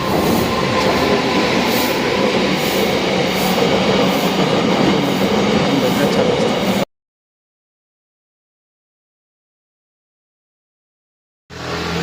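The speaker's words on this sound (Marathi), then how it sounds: "कुठली तरी ट्रेन आली त्या अकोडीला आहे" A train rumbles and clatters steadily, loud and close, then cuts off abruptly into silence before the noise briefly returns.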